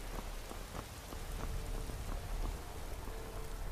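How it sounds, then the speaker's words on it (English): Rain falls steadily in the video game Skyrim, a dense, even patter of drops on surfaces with no voices over it. "Rain."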